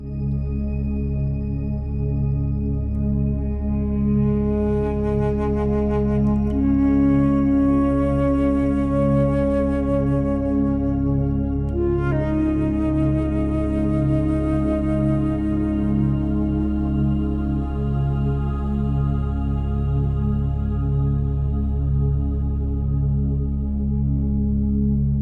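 Sustained flute-style music with a steady low drone gradually crossfades into a deep sleep loop, shimmering high tones fading in and out as the melody thins into a calm, continuous pad, with no talking.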